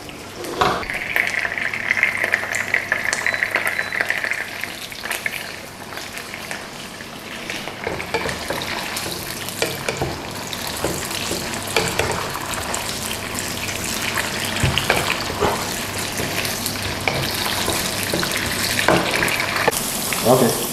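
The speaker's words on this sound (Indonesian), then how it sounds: "kita tumis dulu petenya ya" Steady oily sizzling of stink beans stir-frying in oil in a pan, continuous and close, with occasional clinks and scrapes of a utensil.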